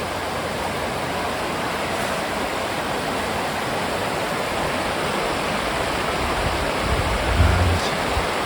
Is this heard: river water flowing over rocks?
yes